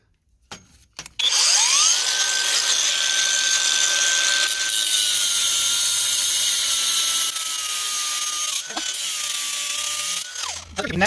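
A power tool whines steadily at high pitch while cutting through a section of traction track for a GEHL 4615 skid-steer, loud and close, with the motor's pitch dipping under load and brief pauses near the end.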